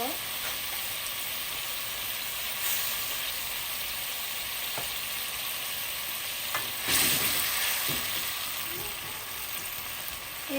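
Pieces of rohu fish belly frying in a pan, a steady loud sizzle close by, with occasional scrapes and a brief flare of crackling.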